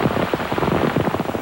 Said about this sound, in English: Heavy rain, 4 hours and counting, everywhere.